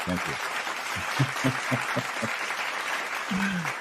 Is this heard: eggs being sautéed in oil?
no